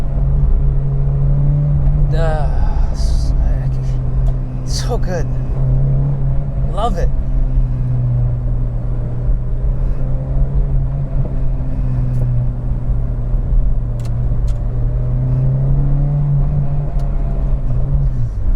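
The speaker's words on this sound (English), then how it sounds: "Oh, this engine is so good." Engine of a Peugeot 405 Mi16 or Toyota Corolla AE92 GT drones steadily from inside the car while driving, a constant low hum under a man's brief speech.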